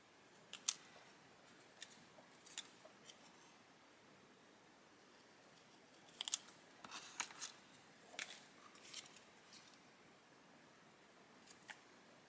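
Scissors trim cardstock for a handmade card with a floral banner, giving scattered light snips and rustles spread over about twelve seconds, with a small cluster in the middle, quiet and close, with no voices.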